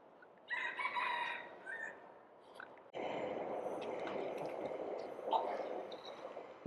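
Roosters crow and chickens cluck outdoors in Sun Plaza Park, Tampines, fairly close, against a steady wash of background ambience.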